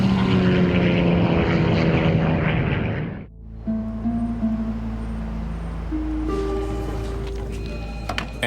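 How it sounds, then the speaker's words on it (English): A 19-passenger propeller airliner plunges toward the ground, its engines roaring loud and strained, then a sudden cut gives way to a deep droning hum with shifting tonal whines over the low rumble. "Air traffic controllers watch as a 19-passenger plane plunges towards the Earth."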